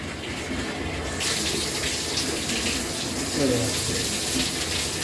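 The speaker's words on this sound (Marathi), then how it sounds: "रोहित नळ चालू पण" Water gushes steadily from a tap fitted to a home water tank's plumbing. The flow is loud and continuous and close by, and it gets stronger partway through.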